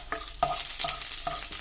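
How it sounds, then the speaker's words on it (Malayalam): Cashew nuts and raisins fry in a pan for a Kerala snack, giving a steady sizzle with periodic clinks and scrapes of stirring, close and moderately loud. "കണ്ടോ, കാഷ്നട്ടും മുന്തിരി ഞാൻ വറുക്കാനിട്ടിട്ടുണ്ട്."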